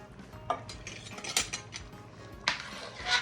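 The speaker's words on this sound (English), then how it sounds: "I'm gonna go ahead and add 1 can of tomato sauce in here" Tomato sauce being added from a can to a pot of smoked sausage gravy, with a few sharp metallic clinks and clanks of can and utensil against the pot, nearby and fairly quiet, with softer scraping in between.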